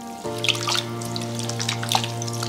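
Salted shrimp are swirled and rinsed in a bowl of lightly salted water, giving soft close sloshing and trickling with small splashes over a steady low hum, with no voices.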